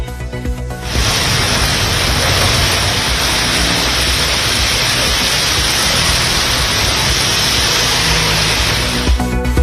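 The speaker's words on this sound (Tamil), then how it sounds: "சென்னையில் பல்வேறு இடங்களில் கனமழை கொட்டுகிறது." Heavy rain pours down in Chennai as a loud, dense and unbroken hiss that fills the whole stretch without any voices.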